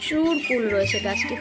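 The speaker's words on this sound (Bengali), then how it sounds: "পাখি ডাকছে" Birds call from near a jujube tree heavy with fruit, with short squawks and chirps heard under someone speaking close by.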